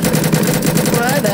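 Automatic gunfire in a video game raid drill, rapid repeated shots rattling in a dense burst, loud and close, with players' voices mixed in.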